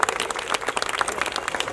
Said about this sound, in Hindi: ताली होनी चाहिए अतिक सर के लिए।